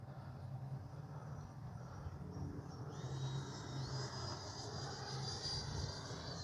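An FMS Integral 80mm RC jet on landing approach with gear and flaps down, giving a steady whooshing ducted-fan whine whose pitch rises partway through, fairly distant and continuous.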